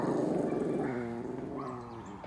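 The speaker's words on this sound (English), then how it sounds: "You gonna stand here and bark?" A dog at a yard fence lets out a drawn-out, throaty growling bark that wavers in pitch, loud and close with no talking over it.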